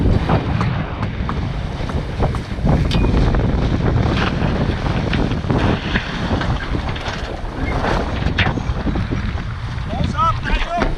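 A sailboat tacks through a turn in strong wind, with heavy wind buffeting, water sloshing and rigging and hull knocks throughout, under shouted crew calls.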